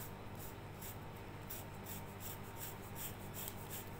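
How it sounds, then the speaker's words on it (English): Steady, fine scratching of pointed scissor tips dragged along paper grain in quick repeated strokes, close up and continuous. "So what I did to rough it up, I just took my pointy-ended scissors"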